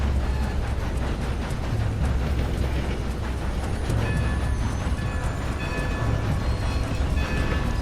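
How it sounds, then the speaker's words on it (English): A steam train in the video game Red Dead Redemption 2 rumbles along with a constant hiss of steam, and a high whistle tone sounds in the second half. "You get an actual burst of steam when you blow the whistle."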